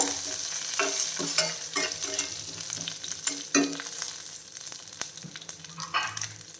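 Curry leaves, dal and cumin crackle and fry in hot oil, a steady close sizzle broken by repeated louder pops and stirring scrapes throughout, with no voices.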